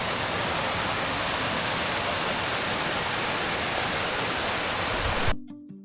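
Pha Daeng waterfall beside a riverside campsite in Kanchanaburi during the rainy season: a loud, dense, continuous roar of falling water, close and unbroken, cutting off abruptly near the end.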